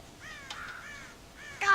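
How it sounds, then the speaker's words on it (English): Crows caw in the video game Red Dead Redemption, giving several harsh, nasal calls in close succession, fairly near and clear, with a louder burst at the end. "God damn crows!"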